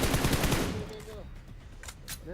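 Gunfire in the mobile battle-royale game PUBG Mobile, a loud rapid burst of automatic shots that then decays, with a voice talking faintly underneath and a couple of sharper hits near the end.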